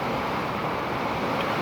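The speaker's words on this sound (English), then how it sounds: "the rain and the wind is coming out of the north" Strong northerly wind and heavy rain lash the barn side of a house during a storm under a flash flood warning, a steady, dense roar of broadband noise that holds even throughout.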